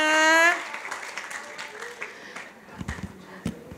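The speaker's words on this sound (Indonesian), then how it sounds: "tepuk tangan." Audience applause at a public speaking and master of ceremonies training session, a brief voiced tone at the start giving way to scattered, fairly soft clapping that continues at a moderate level.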